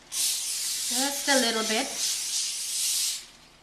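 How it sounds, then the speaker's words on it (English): Cooking spray hisses onto a foil-lined baking tray in short, close bursts of bright, airy spray, while someone talks over it briefly. "But to avoid sticking, I'm also going to use some cooking spray on it."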